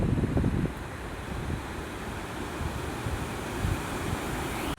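Sea waves washing onto the beach at Guhagar, a steady broad rush of surf heavily mixed with wind buffeting the microphone, with no one talking.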